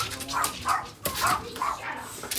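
A dog barks repeatedly in a few sharp, close bursts, with people talking nearby around the barks.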